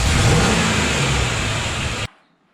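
V8 engine swapped into a 1970 Datsun 240Z, loud and close, revving at a steady high pitch with a rough mechanical roar, then cutting off abruptly near the end.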